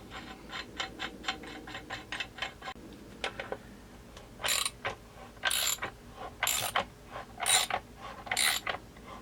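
A crank tool ratchets on a Husqvarna 372 chainsaw: a quick, regular run of light clicks, then slower, louder bursts of ratcheting, close and alone.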